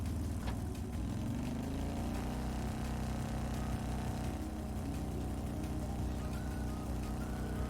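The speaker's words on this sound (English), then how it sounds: "I need to pull in the clutch quickly and firmly, then change gears" Motorbike engine in the video game Trails of Cold Steel, a steady loud mid-pitched drone with harmonic bands that shift upward as gears change and the revs climb, running continuously with no talk.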